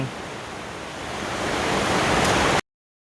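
Mae Klang waterfall at Doi Inthanon, Chiang Mai, a loud, steady broadband rush of falling water that builds slightly before cutting off abruptly into silence near the end.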